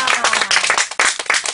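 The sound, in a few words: audience applause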